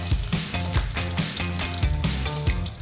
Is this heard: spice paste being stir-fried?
yes